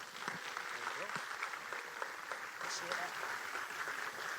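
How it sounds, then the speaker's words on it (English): An audience at a cultural event at a Burbank community center applauds a welcoming speaker, a soft, distant, continuous patter of clapping heard throughout. "Let's give her a nice round of applause."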